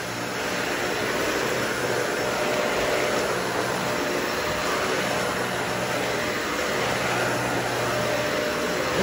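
A Dyson vacuum cleaner runs continuously, a steady, loud whooshing motor roar with a high whine that holds unchanged from start to finish, with no voices over it.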